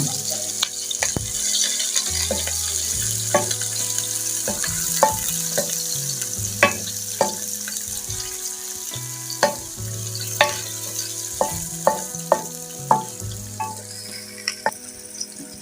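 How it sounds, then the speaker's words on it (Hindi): Chopped onions sizzle and fry steadily in about five spoons of hot oil in a kadhai while browning for a chicken korma, with a spoon clinking and scraping against the metal in repeated bursts of stirring, close up and without any talk. "प्याज को ब्राउन कर लेंगे।"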